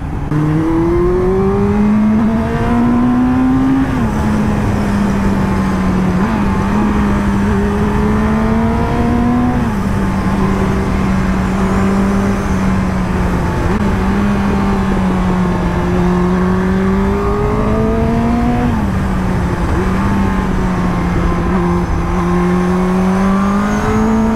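Yamaha YZF-R1 motorcycle engine hums steadily while riding, pitch gently rising and falling through gear shifts, loud and close with wind rushing underneath.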